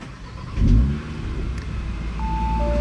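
An unbroken-in Audi RS3 starts up with a loud low crank-and-catch surge, then settles into a steady rumbling idle, with a thin whine coming in near the end.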